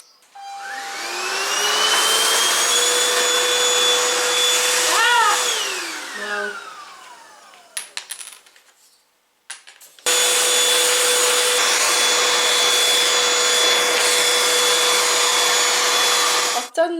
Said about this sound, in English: I'm going to have to get the hoover on this table.